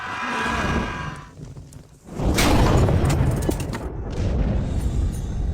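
Cannon fire in a historical film about Chhatrapati Shivaji Maharaj: a loud, deep boom bursts out around two seconds in, followed by sustained rumbling blasts that fill the rest of the moment.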